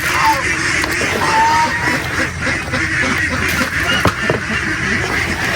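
Ducks on a duck farm quack continuously in a dense, loud chorus, with overlapping calls close by and throughout.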